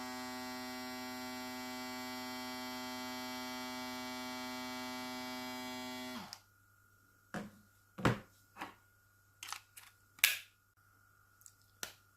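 A Hatteker RSCW 767 foil shaver runs with a steady, tonal electric buzz for about six seconds, then switches off, leaving quiet broken by a few light handling clicks and taps.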